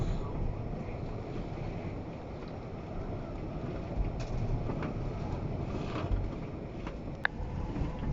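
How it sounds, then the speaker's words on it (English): Storm Eunice squall on a river, heard from aboard a moored boat: steady, loud wind roar and rushing water fill the whole clip, with a few faint creaks and knocks. "Big old squall running through there."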